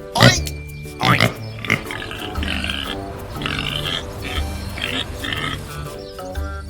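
A pink pig grunts and oinks in a few sharp bursts at the start, then softer snuffling grunts continue over a low background.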